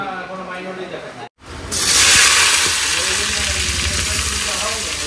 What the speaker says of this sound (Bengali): ডিম ছাড়াবো এখন জোয়ান ভাজবো